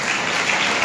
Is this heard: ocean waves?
no